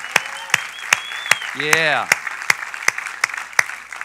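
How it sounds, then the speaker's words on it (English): A church audience claps for their pastors in steady, evenly spaced rhythmic claps, with a brief voice calling out partway through. "Can we give your pastors a hand clap?"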